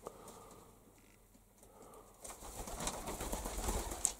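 Pigeon in a loft, soft cooing and shuffling that is faint at first, then grows denser and busier with fluttering and scratchy movement close by.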